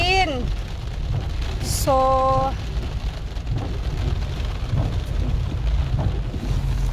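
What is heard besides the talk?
heavy rain pouring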